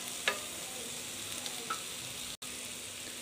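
Curry leaves and garam masala powder sizzle and fry steadily in a hot pan for a Tamil ginger garlic chicken, with a soft continuous crackle, a few brief sharper pops and stirring scrapes, and no voices.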